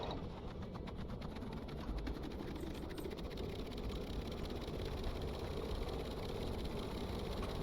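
Engines of a P-66 VTOL, a small compact personnel transport aircraft in a video game, spooling up into a steady, droning whine and rumble that holds evenly for several seconds with no voices.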